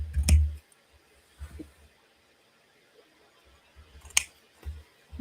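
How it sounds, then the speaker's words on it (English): Scissors snip through small paper pieces during card-making, a few sharp, close cuts separated by quiet gaps. "Now we can just take and trim these"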